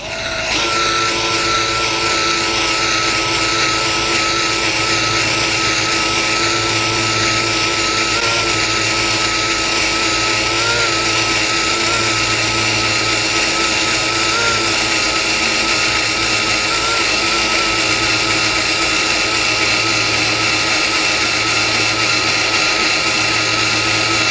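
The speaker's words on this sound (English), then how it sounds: "we're going to drill very slowly" A power drill bores a concealed hinge hole into a cabinet door, a loud continuous whine held steady for the whole stretch with slight wavering pitch and no voices.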